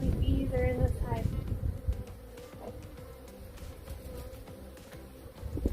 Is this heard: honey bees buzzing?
yes